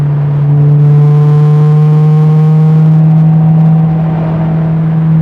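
A right-hand-drive JDM Honda S2000 fitted with a Skunk2 Mega Power exhaust drives along, its engine note a loud, close, steady drone with a rising and falling tone as it holds and shifts through revs, no voices present.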